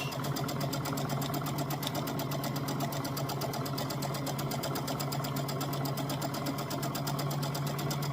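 A sewing machine stitches across the bottom of a quilt block, running in one continuous, even, close-up whir with a steady rapid needle rhythm and no pauses.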